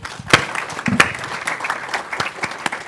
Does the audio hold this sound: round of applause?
yes